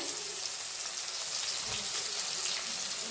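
Cumin, chopped onion and crushed garlic fry in a hot pan with a steady, dense sizzle that stays loud and even throughout, with no voices.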